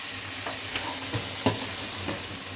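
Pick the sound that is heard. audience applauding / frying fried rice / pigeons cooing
frying fried rice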